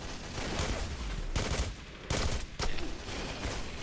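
Sustained SMG fire in a Roblox zombie game, a dense continuous rattle broken by a few brief pauses, loud and close throughout.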